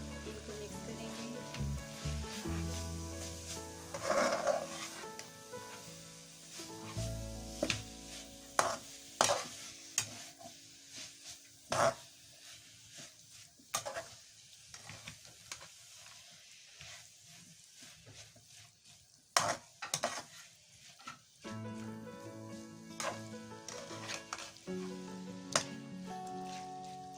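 A spoon stirs vegetable samosa filling with finely chopped onion and capsicum in a pan: irregular scraping knocks and clicks over a soft, faint sizzle, with quiet pauses between bursts of stirring.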